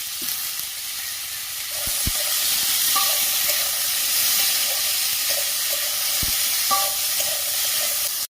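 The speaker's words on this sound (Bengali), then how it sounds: "আলুগুলো ভেজে নেব।" Potato pieces fry in hot oil with salt and turmeric, giving a loud, continuous sizzle up close, with a few sharp scrapes and taps as they are stirred.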